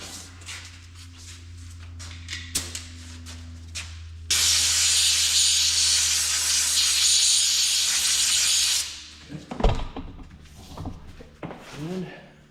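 Air compressor hose blasting air to clean out a Unimog 416 steering knuckle, a loud hissing burst lasting about four seconds between quieter clicks, knocks and handling noises, with some speech afterward.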